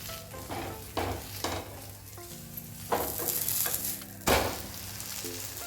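Masala oats chilla cooks in a pan with a steady sizzle, broken by several louder scraping and stirring bursts from a spatula, close and with no talking.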